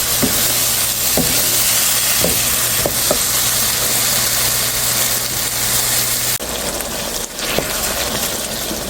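Pieces of katla fish are sautéed in a pan with a continuous loud sizzle, punctuated by soft knocks and scrapes of a spatula stirring; the frying carries on unbroken with no talk.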